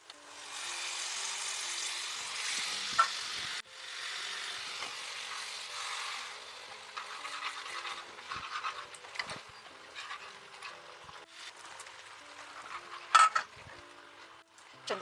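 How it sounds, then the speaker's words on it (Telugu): Tamarind juice poured into a hot pot of korameenu fish egg curry brings up a loud sizzling hiss that eases into quieter bubbling and stirring, with occasional utensil knocks against the pot. "చింతపండు పులుసు పోస్తున్నాను."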